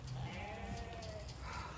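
Rams bleating in snow and rain, a brief nasal bleat over steady noisy background, faint and somewhat distant.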